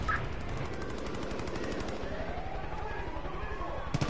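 Rapid machine-gun bursts in the shooter game Far Cry 5 during co-op play, repeated sharp rattling volleys that come in clusters, with players talking over the action.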